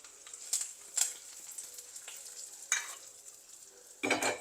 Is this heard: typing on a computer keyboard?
no